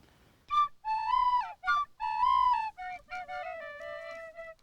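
A tin whistle tune played in traditional style, a clear bright melody of several phrases with held notes and quick ornaments, close and alone without talk.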